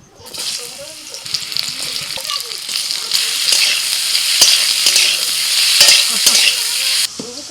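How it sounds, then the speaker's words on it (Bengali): Raw mango pieces fry in hot mustard oil in a wok, a loud steady sizzle with repeated spatula scrapes and knocks, faint voices and clatter in the background early on, ending abruptly. "কড়াইতে অল্প সরষের তেল দিয়ে দিয়েছি, তেলটা একটু গরম হলে দিয়ে দিচ্ছি আম।"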